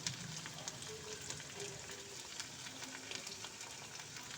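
Ginger garlic paste, coriander and spices fry with potatoes and spinach in hot oil, giving a faint, steady sizzle with scattered crackles and pops and no talking.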